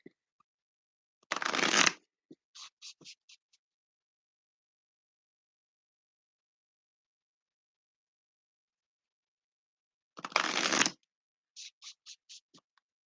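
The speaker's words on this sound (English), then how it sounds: "I'll do one more shuffle" Two separate bursts of tarot cards being shuffled, each a dense riffling rush of about a second followed by a few soft taps as the deck settles, with quiet gaps between.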